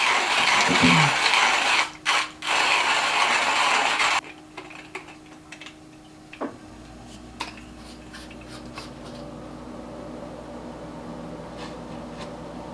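A manual coffee grinder crushes beans for pour-over coffee in a loud, steady grinding rasp over the first four seconds, broken by two short pauses, then stops, leaving faint scattered clicks and handling noises.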